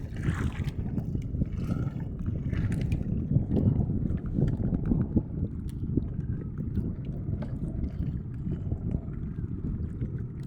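Fishing boat on rough sea, with a steady low rumble of wind and water that runs throughout at moderate distance and carries no voices.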